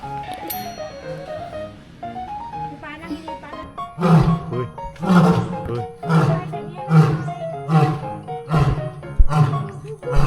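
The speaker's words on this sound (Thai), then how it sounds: "สิงโต" A lion at Khon Kaen Zoo gives a series of deep, rhythmic roaring grunts, repeating roughly every second and growing louder, with people chattering nearby.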